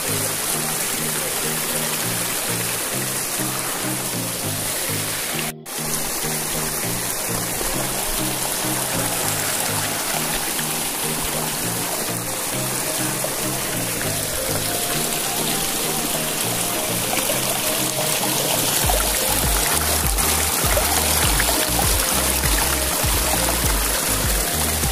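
Rain-swollen monsoon stream rushing steadily over its bed, a loud, continuous close-up flow of water with no talk, one brief dropout early on and a heavier, deeper surge near the end.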